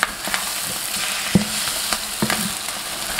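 Egg with chopped onion frying in a pan over medium-low heat, a steady sizzle broken by a few sharp scraping taps as a spatula lifts and flips it.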